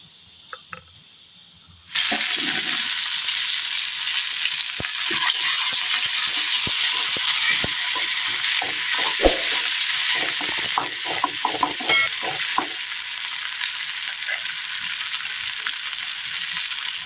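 Mustard seeds and ground tomato hit hot oil for a Kerala drumstick pickle. After a quiet opening, a loud, sudden sizzle bursts in and keeps going with steady hissing and sharp crackling pops.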